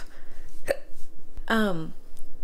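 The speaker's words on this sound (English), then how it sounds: "Now I have the hiccups." A woman hiccups twice, a short sharp catch followed by a louder voiced hiccup with a brief vocal tail, set against quiet room background.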